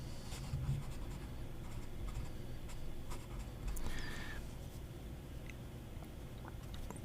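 A steel dip pen nib glides across paper in smooth, even strokes, with a soft, close, continuous scratching that rises briefly in the middle and carries no talking.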